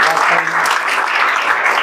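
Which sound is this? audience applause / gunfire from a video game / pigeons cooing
audience applause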